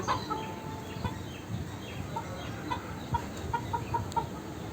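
Egyptian Fayoumi roosters on a farm cluck in short, repeated calls that rise above a steady outdoor background, with a few louder squawks scattered through.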